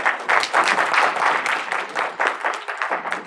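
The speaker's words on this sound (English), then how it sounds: "Let's give a round of applause again to her" An audience at a pre-retirement workshop gives a short burst of applause. Dense, bright clapping from many hands fills about three seconds, steady and fairly close, with no talk over it.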